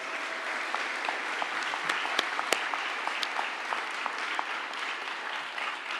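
Graduation ceremony audience at CDU's Faculty of Arts and Society claps steadily for six seconds, a dense even wash of applause with a few sharper individual claps standing out.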